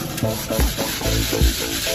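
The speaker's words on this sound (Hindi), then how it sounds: "ये प्याज को अच्छे से मसल लेना है" Repeated squishing, rubbing strokes in a steady rhythm as fried onions are pressed and mashed by hand, close up.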